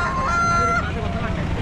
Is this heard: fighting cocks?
yes